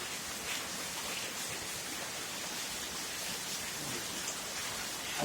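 Steady rain falls in the late afternoon as a dense, even hiss of drops on surfaces, continuous and unbroken throughout, with nobody talking.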